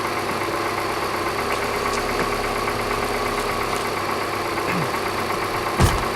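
A car engine idles steadily while warming up, heard from under the hood, a continuous low hum with faint vibration and a short clunk near the end, no talking.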